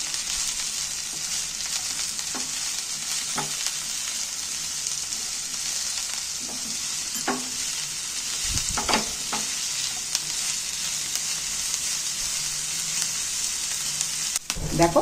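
Chopped onions and green chilies sizzle steadily in hot oil in a pan, with a few spoon scrapes and clinks as they are stirred, no talking.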